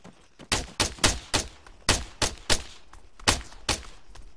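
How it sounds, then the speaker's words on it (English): Gunfire in the Arma 3 video game on Altis, a rapid run of loud single shots in quick uneven succession, close and punchy, with no talking. "He's shooting at me"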